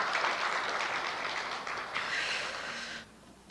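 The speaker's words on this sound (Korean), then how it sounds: "우리 한영의 박수 부탁드리겠습니다" A church congregation at a Korean Sunday worship service in Mokpo claps together in steady, dense applause for about three seconds before it cuts off, leaving quiet room tone.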